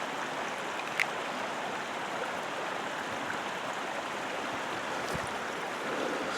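Mosquito Creek in the Siffleur River Valley flows with a soft, continuous rushing wash, steady and fairly faint, with no voices over it.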